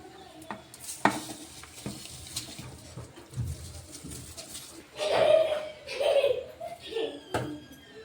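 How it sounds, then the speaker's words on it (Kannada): Rice tipped into a pot of boiling water for chicken biryani, with a splash and steady bubbling and stirring close by, plus brief clinks of a pot, and someone speaking quietly at times. "ನೋಡಿರಿ ಇದು ಕುದಿ ಹಿಡ್ದಂಬ್ರಿ ಈಗ ಇದಕ್ಕೆ ಅಕ್ಕಿ ಹಾಕಮ್ರಿ"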